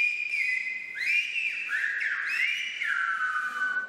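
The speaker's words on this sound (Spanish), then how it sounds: "Los escolares hicieron una demostración de este lenguaje silbado" Schoolchildren whistle Silbo Gomero, the whistled language, with loud, clear, sliding tones that rise and fall in a continuous, speech-like phrase.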